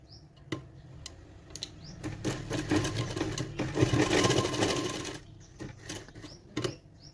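A sewing machine stitches the back neck of a blouse, starting with short clicking bursts, then running steadily and loudly for a few seconds before slowing back to scattered taps. No one speaks.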